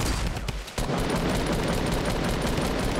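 Rapid bursts of gunfire fill a Fortnite match as a player shoots at a wall, with dense, continuous shots rattling loudly throughout and a brief pause early on.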